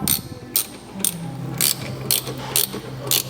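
A ratchet wrench tightening a cable onto the battery terminal of a 40-year-old Jeep Honcho, a close, loud series of about seven quick clicking bursts spaced roughly half a second apart, with a low hum underneath and no speech.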